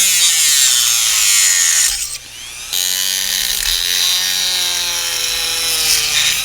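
A spinning cutoff wheel grinds through a plastic grill part for an 80s NASCAR Monte Carlo model car, giving a steady, piercing high whine that dips briefly before resuming, close and loud with no talk.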